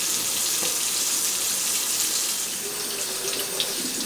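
Steady gush of tap water running into a sink to rinse a blender after making a smoothie, loud and continuous for several seconds with no speech.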